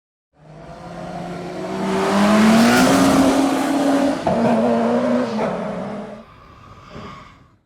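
AI-generated car engine sound effects: an engine that starts softer and swells into a loud roaring rev with a squealing edge, then eases off and fades near the end.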